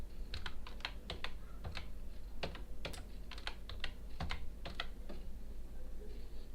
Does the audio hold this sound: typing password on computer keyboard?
yes